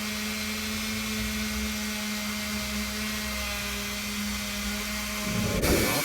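A rotary brush tool polishes a hockey trophy with a steady high-pitched whine and a constant motor drone. Near the end the pitch drops and the tone roughens as the brush bites into the metal.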